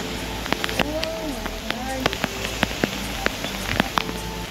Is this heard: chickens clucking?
no